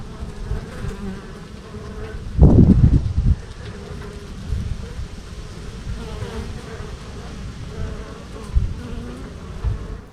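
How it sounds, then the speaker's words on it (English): Honey bees in an opened hive during a first post-winter inspection make a continuous low buzz, with a louder burst of close wingbeats passing near and occasional rustling handling noise. "oh, look at all the bees"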